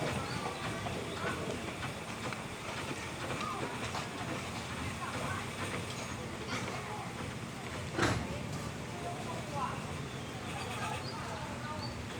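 Ordinary passenger train 277 from Bangkok to Kabin Buri at Khlong Luang Phaeng station, a continuous low rumble of rolling cars with a brief sharp clank partway through, heard under faint background voices.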